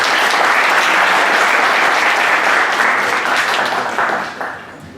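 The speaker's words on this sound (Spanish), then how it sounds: "demos un aplauso de bienvenida a la especialista Carla Ivonne Vázquez Barrera" Audience applause welcoming a specialist speaker at a university law faculty event on criminal evidence: dense, loud, sustained clapping from a large crowd that gradually thins and fades out toward the end.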